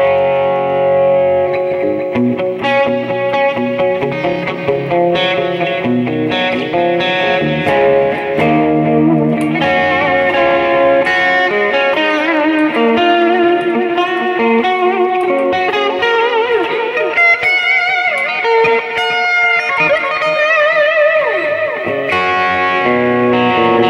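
An electric guitar played through a Boss eBand JS-10 Pro Crunch amp model, a Fender Pro Reverb style tone, rings out in loud, distorted melodic runs and sustained notes with echo, with no talking.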